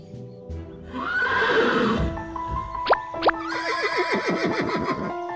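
An old, weak horse neighs in an animated cartoon. A loud, close whinny rises and falls in a wavering sweep, with music and a couple of sharp accents alongside it.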